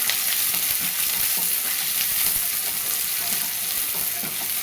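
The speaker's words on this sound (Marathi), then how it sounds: "कांदा चांगला परतून घ्यायचा ब्राऊन कलरचा होईपर्यंत" Chopped onion sizzling steadily in a pan as it fries toward brown for a ridge gourd dish, a continuous close hiss with occasional soft stirring scrapes throughout.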